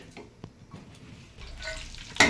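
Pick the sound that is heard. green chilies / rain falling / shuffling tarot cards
green chilies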